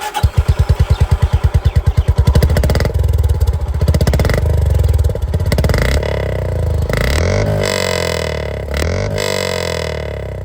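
A 2024 Honda CB350 motorcycle's exhaust starts with a rapid, even thumping idle, then the engine rises into loud, sustained revs and falls back, heard up close with no talking.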